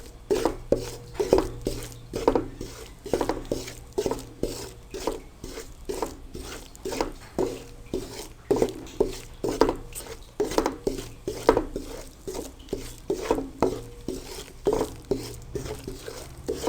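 A spoon repeatedly scraping and knocking against a pan while egg halwa roasts, a fast, steady, close rhythm of clinks and scrapes running throughout with a low hum underneath.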